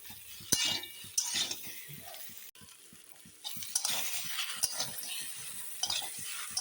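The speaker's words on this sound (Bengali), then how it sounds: "আলুগুলো ভালো করে কষিয়ে নিলাম" Boiled potatoes being stir-fried in a pan with salt and pepper, heard as a steady close sizzle with scraping stirs and occasional clinks of a utensil against metal, no talking.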